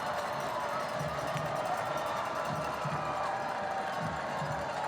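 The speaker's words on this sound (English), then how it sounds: "the fans here at Broughton, really for the first time in the second half, have something to cheer about" Home crowd at a Broughton high school football game against Wakefield roars in a steady, dense wash of cheering and shouting, with voices mixed into the noise throughout.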